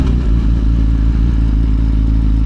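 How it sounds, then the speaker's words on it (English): Suzuki GSX-R liter bike running under load while ridden, a loud, steady, close engine drone with dense low harmonics and wind rush, no voices. "this liter bike, I just love Gixxers so much"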